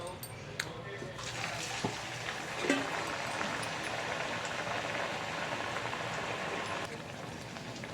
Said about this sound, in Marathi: अशा पद्धतीने बाकीच्या पण तळून घ्यायचे.